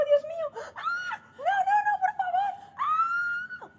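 A woman, a nanny, screams and wails in a series of high, shrill, wavering cries with brief breaks between them, loud and close, with no other sound behind them.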